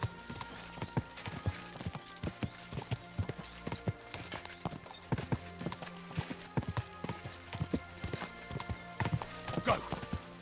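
Horse hooves clip-clop steadily on the ground in the medieval video game Kingdom Come: Deliverance 2, a brisk repeated trot close by, with a brief whinny and game sounds layered over the hoofbeats.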